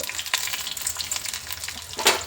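Urad dal fries in hot oil for a potato palya, giving a soft continuous sizzle with light crackles and occasional stirring scrapes, steady and fairly quiet.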